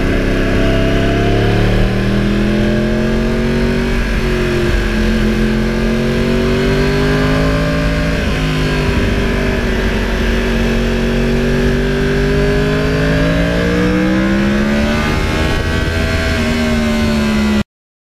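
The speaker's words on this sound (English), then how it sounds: "the mechanical, business-like sound of the engine while you're actually riding the bike" A 2009 Yamaha R1 crossplane-crank motorcycle engine under way on wet roads, loud and close, its pitch rising and falling steadily through revs and gear changes for the whole stretch, with no talk.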